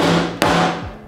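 A wood chisel struck once by a hammer to start a cut along a squared line, one sharp near impact standing out against steady background noise.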